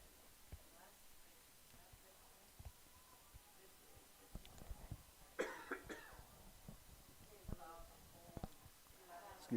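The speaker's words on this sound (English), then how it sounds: "Sometimes you just have to cough, and I don't have a cough button." A single short cough from an announcer at a Potter County track meet, close to the microphone amid quiet background noise, with a few soft bumps nearby.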